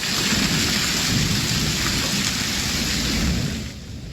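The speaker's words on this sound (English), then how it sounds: "It's a river of hail right there." A thunderstorm with heavy hail: dense, loud, continuous roar of hail and rain pounding surfaces, steady throughout and easing slightly at the end, with no voices.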